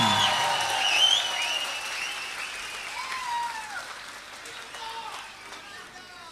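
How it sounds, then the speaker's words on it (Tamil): A large audience at a Tamil talk applauds strongly in honour of the scientist Abdul Kalam, with dense clapping mixed with whistles and shouts that slowly thin out over several seconds. "அவருக்கு ஒரு பலத்த கரகோஷத்தை நாம் இப்போ கொடுத்தாக வேண்டும்"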